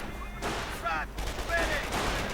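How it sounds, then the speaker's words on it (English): Gunfire crackles through a Company of Heroes battle as Panzer Grenadiers come under fire from rifleman teams, with short bursts and scattered shots rising and falling across a couple of seconds. "Panzer Grenadiers getting shot quite a bit at"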